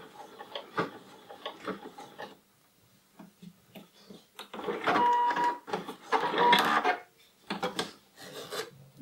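A PFAFF Creative 1.5 sewing machine stitches through eight stacked layers of denim. Close mechanical rattling comes in intermittent bursts, with louder, denser runs toward the end.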